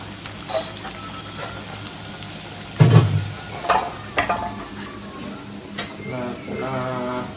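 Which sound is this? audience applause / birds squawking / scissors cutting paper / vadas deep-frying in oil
vadas deep-frying in oil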